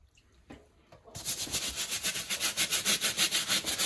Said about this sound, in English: Now you're gonna scrub it.